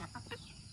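Chickens cluck at feeding time in a rural yard, giving a few short, quiet clucks in quick succession at close range.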